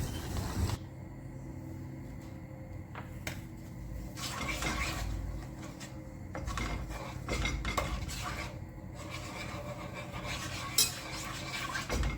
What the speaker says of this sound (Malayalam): കസ്റ്റർഡ് പൗഡർ ഇട്ടിട്ട് നന്നായിട്ട് ഇതൊന്ന് മിക്സാക്കി എടുക്കണം കട്ട കട്ടാതെ നമുക്കിതൊന്ന് ഇളക്കിയെടുക്കാം